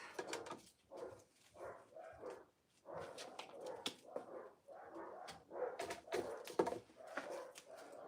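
Three dogs bark excitedly in overlapping volleys after the doorbell rings, some yips and whines mixed in, fairly close and chaotic for several seconds.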